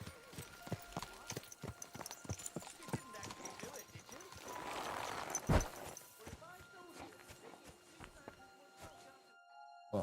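Horse hooves clip-clop in Kingdom Come Deliverance 2, a steady rhythmic gait with one heavier thud partway through, while a voice talks over the sound.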